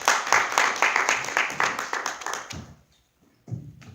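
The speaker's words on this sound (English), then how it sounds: "Let's give him a big round of applause." Audience clapping for Rob Woods at an LGBT equality town hall, a dense burst of applause that rises and then dies away into near silence before a few scattered claps return at the end.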